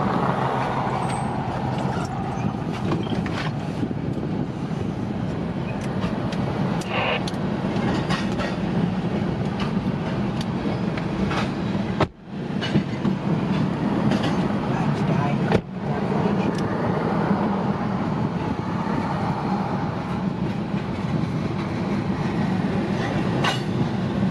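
A train rolls past in Florida, its steady rumble and rail clatter filling the whole span at moderate distance, with two brief dips where the sound cuts out and faint voices in the background.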